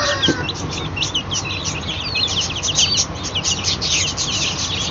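Newly hatched chicks peep in dense, repeated high chirps at home on hatching day, a busy, close chorus over low background noise, with a brief cluck near the start.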